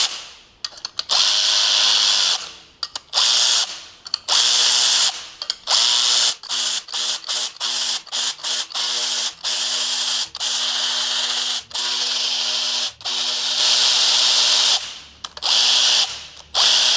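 A power tool undoes the bolts on a valve spring compressor fitted to a BMW M57 3.0d diesel engine. It whirs loudly and close in repeated bursts, starting and stopping in quick succession with short pauses between runs.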